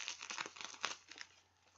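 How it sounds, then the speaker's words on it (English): A plastic bag layer from a sanitary napkin crinkles faintly and close up, a short burst of rustling crackles that fades toward the end. "but it's just a plastic bag"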